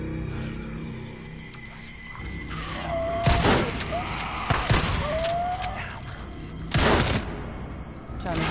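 Shooting in the game Days End. A few loud, separate blasts land a second or so apart over a quieter background, and a voice talks between them.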